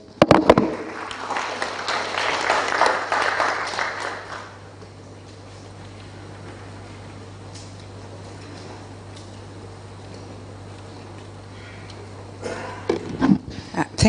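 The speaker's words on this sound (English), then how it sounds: "Are we able to give him a better round of applause, please?" An audience at a national post-election symposium breaks into applause, a dense burst of clapping for the first few seconds that thins into a faint patter, with a low steady hum underneath and a brief flurry of claps again at the end.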